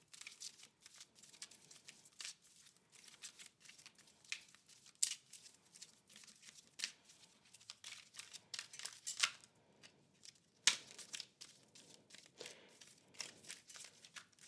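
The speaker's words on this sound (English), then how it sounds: "So I'm going to go ahead and pull an Angel Answers card" Oracle cards from an Angel Answers deck being shuffled and drawn, a quiet, close series of soft flicks, riffles and papery snaps in irregular bursts.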